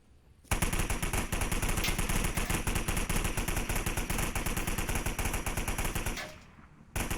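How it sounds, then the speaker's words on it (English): Sustained rapid automatic gunfire in the VR shooter game Onward rattles loudly and continuously for several seconds during a competitive match, fading briefly near the end before another burst. "And gunfire coming out."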